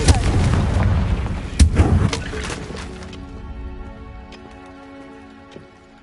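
A fire spell explodes in a fantasy video game with a heavy booming blast and crackling debris, then rumbles and decays into a quieter tonal shimmer.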